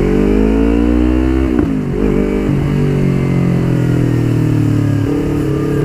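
A Yamaha New R25 2019 motorcycle runs through busy city road traffic. Its loud, close engine holds a steady mid-pitched hum, briefly dips and swoops in pitch, then settles into a steady drone again.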